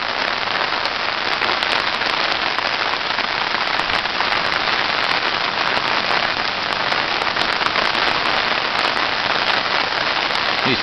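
Heavy rain pours onto surfaces during street flooding in Daytona, a dense, loud, unbroken hiss of drops that fills the whole stretch without any voices.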